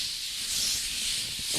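Short puffs of breath blown over LEGO pieces to clear remaining dust make a soft, close airy hiss lasting under two seconds, quiet and steady with a slight swell at the end.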